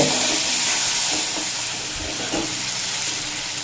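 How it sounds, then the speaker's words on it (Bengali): Ridge gourd and potato fry in an oil-filled pan, giving a steady, loud sizzling hiss throughout with a few faint stirring clinks. "দেখুন ঝিঙ্গে আর আলু আরও দুই মিনিট মতো ভেজে নিয়েছি"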